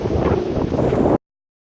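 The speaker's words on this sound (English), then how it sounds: "as beautiful as this place is, it's just too windy for us." Strong wind at a Cape York campsite roars and buffets the microphone in a loud, broadband rush, then cuts off abruptly after about a second.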